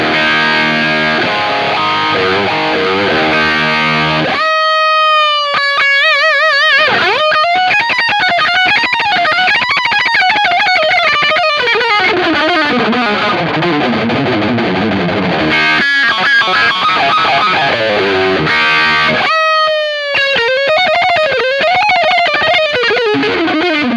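Distorted electric guitar played through a Le Lead preamp and Torpedo Live, with loud sustained overdriven notes, bends and fast melodic runs over about twenty-four seconds, separated by brief pauses, with no talking.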